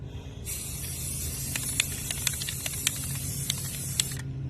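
A steady, hissing spray from an aerosol paint can, coating a starburst mirror craft, runs for about four seconds over low background rumble, with a few faint clicks along the way.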